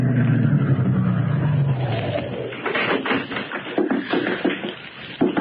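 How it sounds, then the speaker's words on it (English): A big limousine car driving up to an entrance at an estate, its engine rumbling low and steady and then fading as tyre and mechanical noises crackle nearby, with no talking. "a big car drove up to the only entrance"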